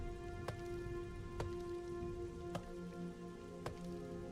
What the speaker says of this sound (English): And then in comes the rain